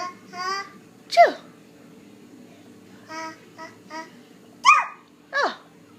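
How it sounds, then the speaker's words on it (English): A baby sneezes several times, with short, sharp little bursts close by, separated by soft vocal sounds and babbling-like noises in a quiet room. "Cutest little sneeze."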